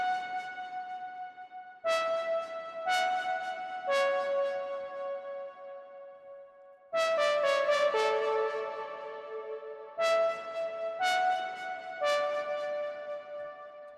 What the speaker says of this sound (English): I add a little top melody with a diva as well